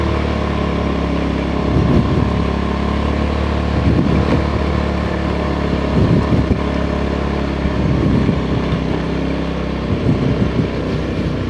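A dirt bike engine labours up a steep forest trail, a continuous loud rumble that surges and revs in repeated pulses, close and alone without talk.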